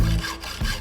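A hacksaw is drawn by hand through metal while a bushcraft hatchet is being made, giving two rasping strokes, a longer one and then a shorter one, close and fairly loud with no talking.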